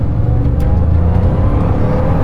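A Bugatti Chiron Pur Sport accelerates hard on a race circuit. Loud, close engine roar and whine build steadily as the car pulls, with no talking.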